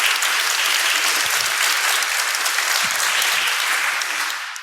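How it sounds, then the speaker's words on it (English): Dense, steady applause from a conference audience, loud and continuous throughout, tapering slightly at the very end. "So please applaud her."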